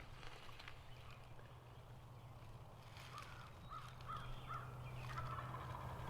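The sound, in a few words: birds calling in a field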